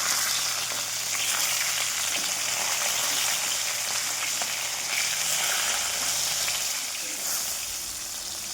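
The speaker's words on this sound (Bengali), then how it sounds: "মাছ ভাজা হচ্ছে এখন।" Fish fries in a pan of hot oil, a loud, continuous sputtering sizzle like heavy rain, holding steady and close, with a voice faintly underneath at times.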